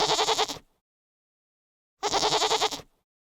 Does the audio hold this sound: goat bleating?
yes